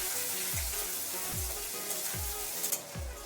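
Chopped garlic and long-sliced onion frying in oil in a pan, with a steady close sizzle and a few low thuds from stirring at regular intervals, no talking.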